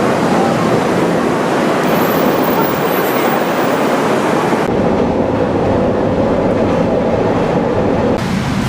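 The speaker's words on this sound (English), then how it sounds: "We're taking a CTA train to a CSX yard." A Chicago CTA train rolls loudly along the rails, a constant heavy rumble and roar that shifts tone partway through, close by.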